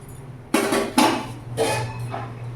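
A metal lid set onto a cooking pot: two clanks close together followed by two lighter rattling contacts, near and distinct over a faint background hum.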